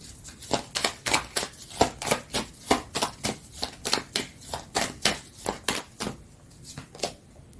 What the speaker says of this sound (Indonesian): Aku akan tarik dulu semua kartunya ya